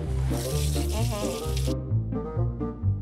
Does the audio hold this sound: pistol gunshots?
no